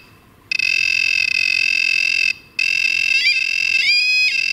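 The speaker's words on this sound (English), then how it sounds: "by touching it, it gets a little bit louder and it alarms" A REM pod ghost-hunting detector in a former factory sounds a loud, steady electronic beeping tone that cuts out briefly and then resumes with a wavering pitch as an arm comes near it.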